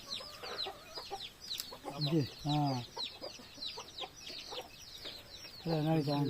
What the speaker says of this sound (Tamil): வாழைப்பழத்தை கொத்தி வாழைப்பழத்தையே சாப்பிடுது